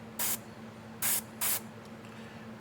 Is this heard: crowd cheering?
no